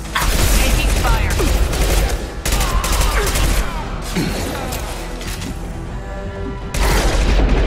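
Rapid bursts of gunfire during a Mass Effect 2 firefight, loud and dense with repeated cracks and booms, briefly easing off before surging again near the end.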